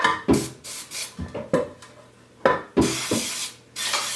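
Several short hissing bursts of cooking spray onto a muffin tin in an uneven rhythm, close by, with faint clinks between them and no talking.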